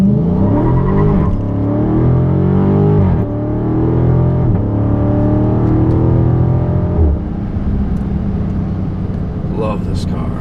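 A 2016 Dodge Charger SRT392 roars through a hard launch, its V8 climbing in pitch through several upshifts with brief dips between gears, loud and close before easing off.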